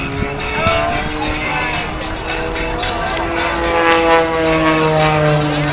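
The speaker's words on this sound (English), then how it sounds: "Now next up for Greg, he's going to roll the airplane right here" An aerobatic airplane's propeller engine roars steadily at an air show, a loud sustained drone with shifting pitch as the plane maneuvers, with an announcer's voice faintly mixed in.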